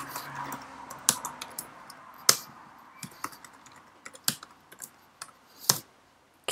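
Computer keyboard typing during an Ubuntu 4.10 installation, a series of crisp, irregular key clicks with short pauses, close and clear with no talking.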